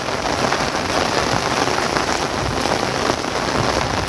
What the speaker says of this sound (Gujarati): વરસાદ એવો પડ્યો છે